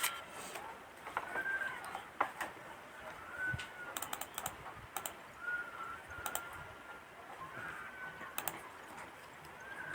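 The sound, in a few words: typing a birth date on a computer keyboard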